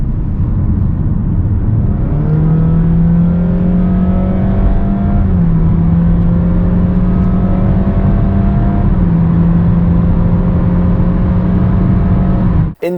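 Honda HR-V 1.5 litre engine drones loudly from inside the cabin under sustained acceleration, its steady thrashing note rising through the gears with brief dips at each shift, no talking.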